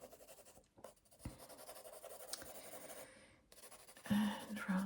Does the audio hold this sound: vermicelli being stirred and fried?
no